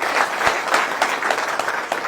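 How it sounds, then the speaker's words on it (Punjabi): A crowd gathered on an embankment in a flood-hit village claps together, giving a steady, dense burst of applause that holds at an even level for a couple of seconds. "ਇੱਕ ਵਾਰ ਜ਼ੋਰਦਾਰ ਤਾੜੀਆਂ ਨਾਲ ਦਾ ਧੰਨਵਾਦ"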